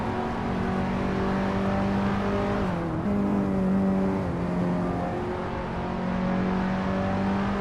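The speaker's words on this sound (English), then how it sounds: "Cedric is starting on pole in a 2015 BMW M135i, built for speed." A 2015 BMW M135i race car at a speedway race start, its engine droning loud and steady with a brief dip in pitch as it shifts, then pulling on at full throttle.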